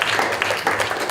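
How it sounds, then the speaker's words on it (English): An audience at a climate and community investing talk gives a short burst of clapping, dense and fairly loud, cut off after about a second. "Round of applause."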